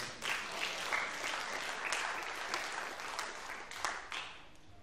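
A crowd at a school graduation ceremony claps steadily for several seconds, a dense wash of applause at moderate distance with no talking over it.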